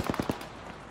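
Short burst of about three rapid machine gun shots in the ARMA 3 video game, loud and close, followed by a fading echoing tail.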